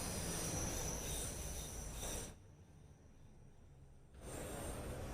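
Train rumbling past in Train Sim World 6, a loud sustained roll of wheels on rails with a faint squeal, cutting off abruptly midway and then returning at full strength.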